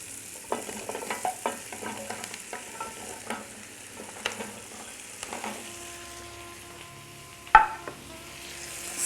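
Sliced carrots sautéing in a pan with onion and chili powder, a soft steady sizzle under intermittent stirring clicks and scrapes, with one sharp knock near the end, no talking.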